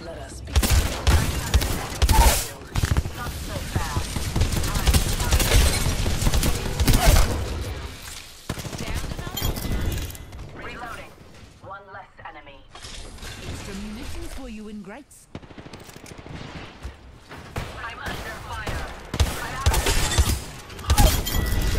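Weapon fire and metallic mechanical clatter from an Apex Legends battle, loud and dense through most of the stretch with a brief quieter gap before the shooting resumes; a voice talks over the action.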